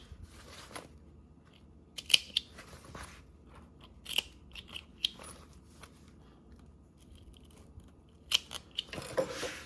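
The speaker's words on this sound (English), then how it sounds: "are now going to snip our corners" Scissors snip the corners of sewn fabric in a few sharp, crisp cuts spaced apart, some in quick pairs, close and clear against a quiet background.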